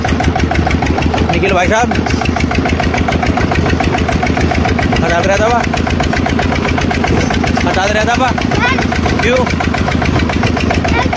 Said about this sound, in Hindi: चलाओ ट्रैक्टर